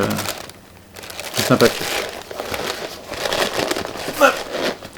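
Paper crinkles and rustles during the unboxing of a Miniso mystery box, a few close crackling bursts while a person talks.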